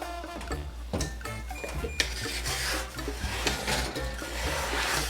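A wooden spatula scrapes and shuffles a Neapolitan-style pizza around inside a hot oven, giving close rasping rubs and knocks over a constant low oven hum, with no talking.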